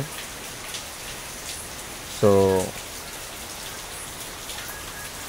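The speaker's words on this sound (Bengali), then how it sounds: "বৃষ্টি কন্টিনিউ বৃষ্টি পড়ছে" Steady rain pouring during the first rainfall of the season in Pabna district after a light storm, a dense even patter throughout, with a man's brief spoken word in the middle.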